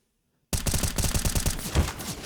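Rapid automatic gunfire in the video game Counter-Strike: Global Offensive, a close, loud burst of evenly spaced shots that starts abruptly after a short silence and continues to the end.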